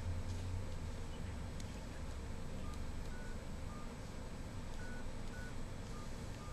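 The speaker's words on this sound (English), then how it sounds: "And we will dial now the number." Faint, short keypad beeps sound one after another at an uneven pace, buried under a steady background hiss and rumble.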